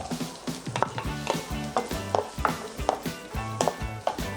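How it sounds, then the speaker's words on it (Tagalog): Garlic and onion sautéing in hot oil in a pan, a soft sizzle under repeated stirring taps and scrapes of a utensil against the pan, close and steady. "nagpainit na ako ng oil. Magigisa tayo ng garlic"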